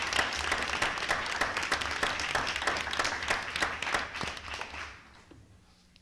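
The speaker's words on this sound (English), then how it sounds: "I think a round of applause goes to him." An audience at a school awards presentation claps for a coach voted Coach of the Year, a sustained burst of many hands that thins out and fades to near silence over the last second.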